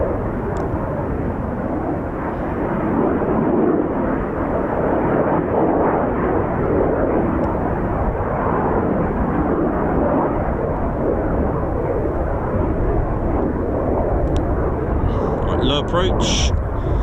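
A Eurofighter Typhoon FGR4 fighter jet on low approach roars loud and broadband for the whole stretch, a sustained rumbling jet blast with a voice speaking faintly beneath it.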